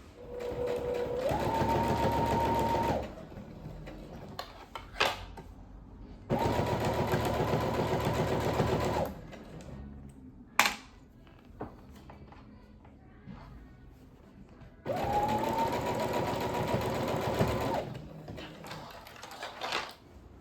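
Sewing machine stitching bias tape binding onto a quilted jacket made from a comforter: three long steady motor runs of rapid needle chatter, each lasting a few seconds and separated by quiet pauses with faint handling clicks.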